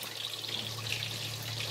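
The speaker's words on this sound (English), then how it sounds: "Put in about 1/4 cup of water, and I'm using 1/3 cup of the coconut milk." Water and coconut milk pour into a pan in a brief, steady liquid trickle, close and moderately quiet, with no voices.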